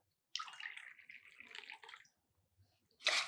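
Two cups of water are poured into a pot for herbal tea, a short steady splashing stream that fades out, then a brief louder gush close by.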